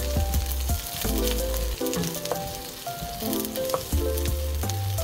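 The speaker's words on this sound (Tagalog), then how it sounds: "Yung ating bawang na mayroong pang kunting balat. Yan, i-golden brown lang natin ang bahagya." Garlic cloves with some skin still on fry in hot oil in a pan, a continuous close crackling sizzle with scattered pops, while background music plays underneath.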